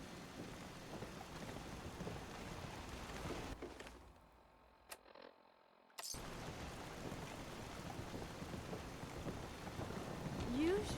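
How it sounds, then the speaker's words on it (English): Steady rain falls with low thunder rumbling in a rainstorm in the video game Fallout 4, dropping out briefly midway before the downpour resumes and swells toward the end. "Damn rain is soaking right through me clothes."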